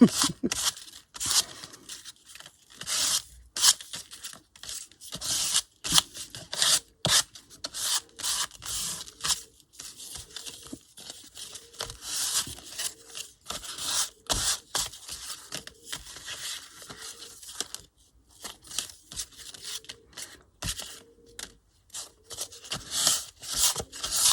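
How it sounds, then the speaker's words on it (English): Excess ink is rubbed off grungy paper tags, a long run of close dry rubbing and scuffing strokes in irregular bursts, with brief pauses. "A bit much on there, so let's rub that off."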